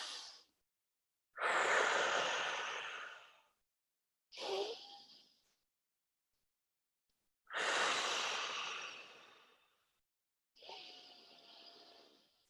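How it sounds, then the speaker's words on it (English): A group breathes slowly and deeply in and out, five long soft breaths separated by silent pauses, with no talking. "we're gonna take 4 deep breaths in and breaths out"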